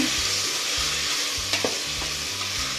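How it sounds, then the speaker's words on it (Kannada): Tomatoes frying in oil for a tomato bath rice dish, a continuous close sizzle with soft stirring scrapes of a spoon in the pan, no voices. "ಟೊಮೊಟೊ ಎಣ್ಣೆಲಿ ಸ್ವಲ್ಪ ಬೇಯಬೇಕು."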